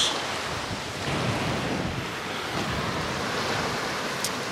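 Surf washes onto a Jamaican resort beach under strong gusting wind, a constant loud roar of waves and wind buffeting the microphone, with no voices.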